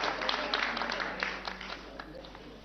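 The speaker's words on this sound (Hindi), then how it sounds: "तालियां जोर से बजाइए सुबोध कॉलेज के लिए" A studio audience at a Rajasthan government quiz show applauds the Subodh College team, a fairly faint, steady patter of clapping that tapers slightly toward the end.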